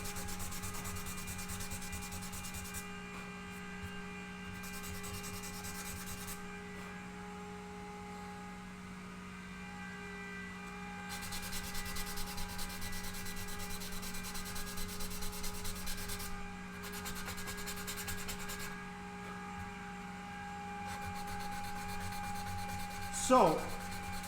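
Gloss finish on a handmade guitar body being sanded or buffed, a faint, steady rubbing hiss that comes and goes in bursts over a constant background hum, close by, ending with a brief sharper scrape.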